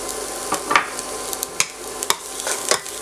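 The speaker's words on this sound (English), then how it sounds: "add the 2 tablespoons of olive oil into a pan, and into that add the garlic" Garlic frying in olive oil in a pan with a steady sizzle, broken by several sharp scraping or tapping stir strokes at uneven intervals, close and moderately loud.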